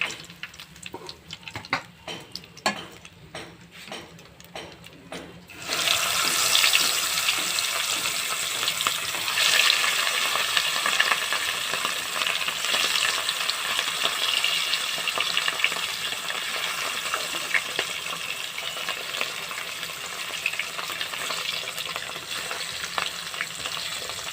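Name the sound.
remaining katla fish frying in oil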